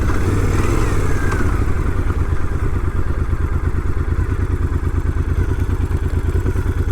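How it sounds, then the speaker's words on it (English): A 2006 Triumph Scrambler 900 runs steadily at road speed, its twin engine and aftermarket exhaust producing a loud, continuous throbbing rumble with rapid even pulses under rushing wind. "It's a cool sounding bike with that, the exhaust that's got on it."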